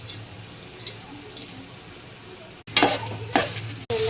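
Onion and turmeric fry in a pan with a low, steady sizzle. Louder bursts of stirring and scraping come in toward the end.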